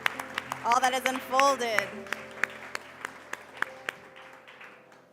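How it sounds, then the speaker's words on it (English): Sparse, scattered hand claps from an audience ring out as single sharp snaps at a steady pace, while a voice speaks over the start. "Come on, round of applause for Ginny Looper Smith."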